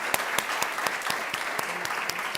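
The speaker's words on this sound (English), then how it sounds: "I want to give a round of applause to this panel and all of the panelists and moderators you've heard today." Audience applause for a panel of speakers and moderators at a food-is-medicine policy event, a brief burst of clapping with a few sharp, distinct claps standing out nearby.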